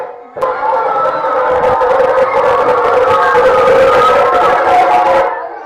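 A women's group cheers and sings together at a Gauri festival vigil, loud and close, a sustained chorus of raised voices that starts abruptly and holds steady before cutting off near the end.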